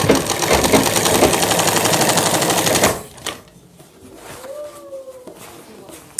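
Sewing machine stitching a shirt seam, running as a loud, fast, steady mechanical rattle for about three seconds before stopping, after which quieter handling noises follow.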